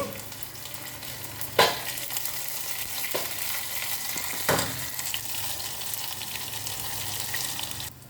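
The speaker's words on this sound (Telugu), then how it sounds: "పోపు ఎగుతుంది" Tempering of mustard seeds, cumin, dried red chillies, garlic and curry leaves sizzles in hot oil for gongura pickle, a steady frying hiss broken by a few sharp pops and clatters.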